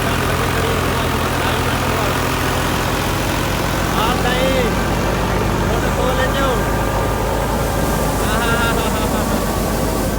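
A tractor engine idles loudly and steadily nearby on a farm, a constant low rumble throughout, with a voice talking over it now and then.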